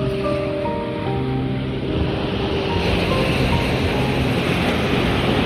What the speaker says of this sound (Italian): Il mare è la nostra casa